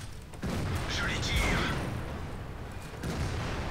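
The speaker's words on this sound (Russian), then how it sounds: "Последний выстрел мимо" A tank cannon fires in the World of Tanks video game: deep, booming blasts with sharp onsets over continuous engine and battle rumble, loud and close.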